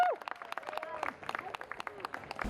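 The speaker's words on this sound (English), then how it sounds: "Let's give a round of applause for Congressman Justin Amash" A small audience at a liberty-themed political event gives light, uneven applause for Congressman Justin Amash. The clapping is faint and patchy, and voices talk over it throughout.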